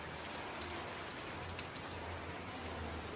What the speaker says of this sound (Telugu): ఇప్పుడైతే చూడండి ఈవినింగ్ 5 o'clock వాన స్టార్ట్ అయిపోయింది.